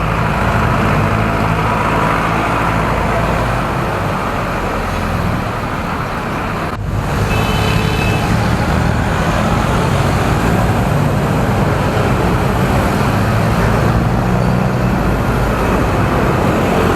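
Continuous road traffic noise heard from a car, a steady close engine and tyre rumble with passing vehicles and no one talking.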